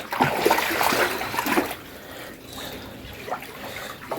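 Water pours from the outlet of a catfish tank, a splashing, trickling flow that is strongest at the start and then settles into a softer steady run with a few small splashes.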